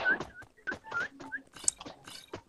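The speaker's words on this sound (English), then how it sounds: "Stop whistling, woman." A woman whistles in short, chirpy bursts, some rising and some falling, broken by gaps and mixed with soft clicking and crunching noises nearby.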